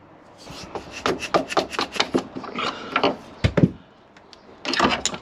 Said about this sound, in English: let's get a screwdriver up in there and get those out